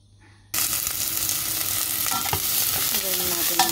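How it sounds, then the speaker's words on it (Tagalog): Onions drop into hot cooking oil for a cauliflower soup, bursting into a sudden loud sizzle after a brief quiet moment, then a continuous crackling fry with stirring scrapes. "Lagyan natin ng mantika at sibuyas."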